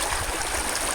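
Creek water rushes steadily through a Sidewinder sluice stand, a close, continuous broadband wash with no pauses.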